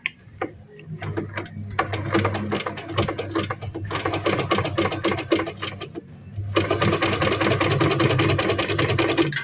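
A Veritas 8018/2 sewing machine stitches a seam, its needle mechanism running in a fast, steady mechanical clatter that pauses briefly near the middle and then resumes louder, close and continuous with no talking.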